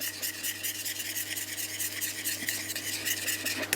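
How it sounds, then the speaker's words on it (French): A probe tip stirs and scrapes through sugar in a saucepan while making praline for a gâteau succès, giving a continuous close gritty rasping with light irregular scrapes and no talking. "je mélange bien avec la pointe de ma sonde de façon à humidifier tout le sucre."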